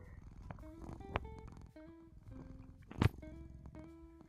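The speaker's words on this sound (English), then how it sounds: "if you pet my head, I start purring" A VRChat avatar purrs as its head is petted, a soft, low, rumbling purr that pulses gently and stays faint beneath quiet background music.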